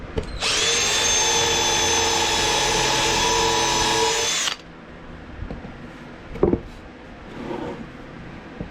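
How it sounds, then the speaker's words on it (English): Power drill driving a screw into a wooden boat seat tray, one loud close whirring burst lasting about four seconds, then quieter handling knocks and shuffles. "just in case, let's put a couple of screws in there"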